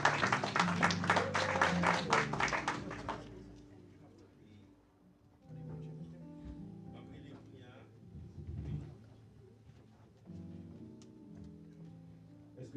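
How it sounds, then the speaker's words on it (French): Audience applause at a live event, a burst of clapping at the start that fades after a few seconds, followed by quieter room noise and some talk. "Et encore une fois, applaudir pour moi, s'il vous plaît."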